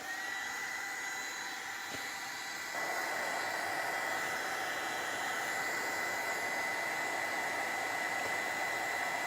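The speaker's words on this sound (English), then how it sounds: "Let's dry it and see if I need to add more." A heat dryer blows steadily on paint, giving a constant close whooshing roar that grows slightly louder partway through and keeps going without voices.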